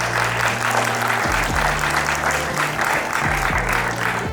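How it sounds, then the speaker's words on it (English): Guests at a wedding reception break into sustained, loud applause, a thick wash of clapping from a full room with a low musical drone running beneath. "let us applaud the new beginnings"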